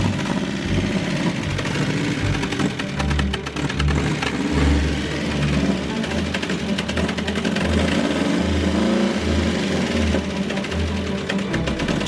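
A Subaru EA82T turbo flat-four engine runs continuously with a rough, uneven idle, with repeated throttle blips rising and falling over about twelve seconds, recorded close up with no talking.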